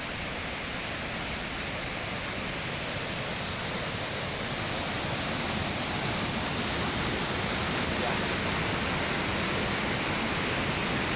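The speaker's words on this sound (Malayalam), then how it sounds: "വെള്ളം കല്ലിൽ അടിച്ച് പതഞ്ഞ് പൊന്തുന്ന" Water from Urulikkund waterfall in Kannur crashes onto rocks in a loud, steady, unbroken roar, close by, with no voices.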